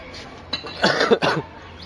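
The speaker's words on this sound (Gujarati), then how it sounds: "થોડી ઉધરસ થઈ ગઈ છે" A few harsh, close coughs in quick succession, loud and abrupt against a quiet background.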